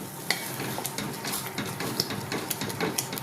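Corn pulp stirred into a cooking mixture in a pan, a steady frying sizzle under repeated scraping strokes of a spoon, close and fairly loud throughout.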